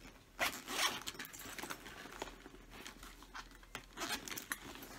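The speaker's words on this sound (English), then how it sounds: "zip it open." A zipper on a baby gift is drawn open up close in several quick scratchy pulls, with a little crinkling in between and no talking.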